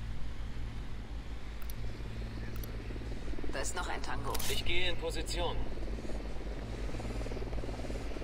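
A drone buzzes steadily in the Ghost Recon Wildlands video game, a constant low whirring hum with brief electronic game sounds mid-way, while players talk over it.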